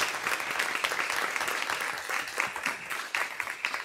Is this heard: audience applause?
yes